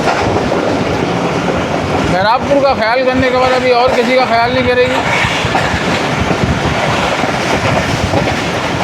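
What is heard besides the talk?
Pak Business Express train passing through Lakha Road station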